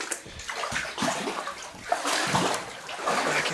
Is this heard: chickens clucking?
no